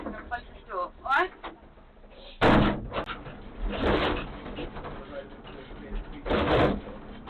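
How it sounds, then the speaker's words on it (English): A heavy police cell door slams shut with loud thuds and metallic clanks amid scraping and shuffling, while voices talk nearby. "I'm going to close this door, alright?"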